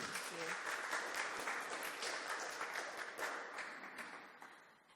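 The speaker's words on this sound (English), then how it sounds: "Let's have a big round of applause for Krystal" Quiet, distant applause from an audience at a creature design talk, a steady patter of many hands that slowly tapers off.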